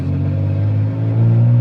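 A 4-litre six-cylinder Ford Falcon with a Redback exhaust idles and revs close by, a loud, deep steady rumble that swells slightly toward the end.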